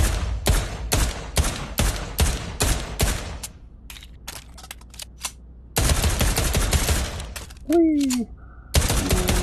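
Bursts of World War II-style gunfire ring out at a shooting range in the VR game Pavlov, rapid repeated shots and automatic fusillades in loud clusters with pauses, plus a brief exclamation from a player.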